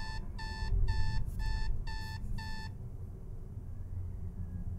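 An electronic phone ringtone chirps in five or six quick bursts of bright beeps over a low rumbling background, then stops.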